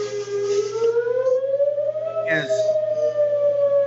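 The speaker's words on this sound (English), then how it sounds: "I'll wait till the siren's over." A civil defense siren wails with a long, slowly rising and sustained tone. A brief voice is heard partway through.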